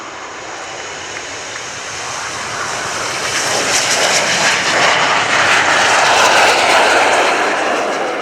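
Red Arrows BAE Hawk T1 jets roar down the runway on takeoff at an airshow, a loud broadband jet rumble building steadily and holding near its peak as they accelerate, with no voices.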